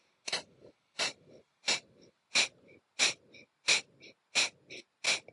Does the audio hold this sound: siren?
no